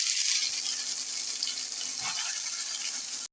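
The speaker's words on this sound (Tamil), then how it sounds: "ஸோ இந்த பேஸ்ட் வந்து ரா ஸ்மெல் போகிற வரைக்கும் ஃப்ரை பண்ணணும்" Cumin and puree paste fry in hot oil in a pan, giving a dense, even sizzling hiss heard close up, with faint stirring and a sudden cut-off at the end.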